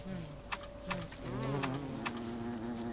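Insect buzzing from bees in the survival video game Don't Starve, a steady close drone running the whole time with a few brief clicks and tones over it.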